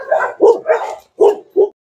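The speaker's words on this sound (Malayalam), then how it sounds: "അപ്പൊ ഇതൊക്കെ നിന്റെ പട്ടിക്കുട്ടികളാ?" Puppies of breeds such as Siberian Husky, Beagle, Shih Tzu and Doberman bark in a quick run of five sharp yaps, close and loud, with short gaps between them.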